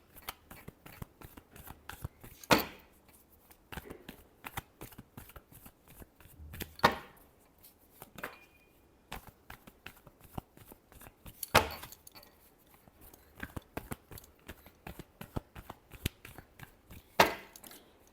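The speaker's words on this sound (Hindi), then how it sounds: "Last shuffle." Tarot cards are shuffled by hand in sharp, irregular bursts of riffling and slapping, close and alone, with quieter rustles between the louder shuffles.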